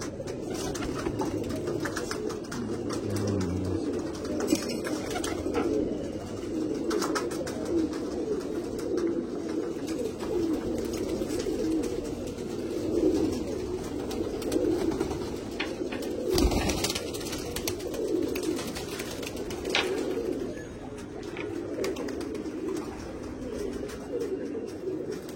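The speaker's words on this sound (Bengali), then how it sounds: "এই পায়রাগুলো দেখুন, পায়রা কোয়ালিটি দেখুন" A flock of pigeons keeps up a continuous, dense cooing murmur, close and loud, with occasional soft knocks and rustles and no speech.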